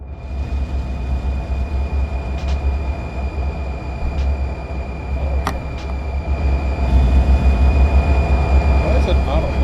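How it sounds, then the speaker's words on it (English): Train rumble in the Run8 train simulator game, a steady low drone with faint clanks and a brief sharp squeal, growing louder toward the end as it arrives, under intermittent talk. "Another train coming in."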